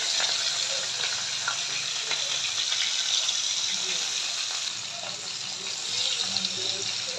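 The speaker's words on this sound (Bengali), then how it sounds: "তেল গরম হয়ে গেছে, এখন মাছগুলো দিয়ে দিলাম" Bata and sarpunti fish fry in hot mustard oil in a pan, giving a steady close hiss of sizzling with scattered crackles and pops throughout about seven seconds.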